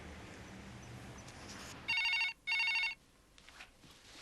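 A telephone rings twice in two short, loud electronic trills, each cut off cleanly, in a quiet room with faint background noise before and after.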